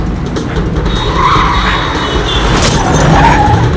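Car tires skid and squeal loudly under hard braking during a movie chase, a sustained screech with engine roar that swells toward the end.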